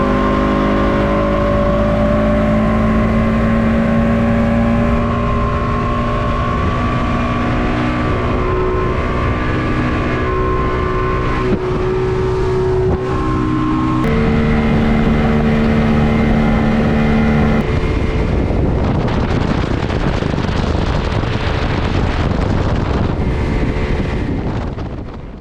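A ProLine 17 boat with a 150 Mercury outboard running flat out, a loud sustained engine drone with rising and falling pitch, heavy wind buffeting on the microphone and rushing water throughout, continuous and close.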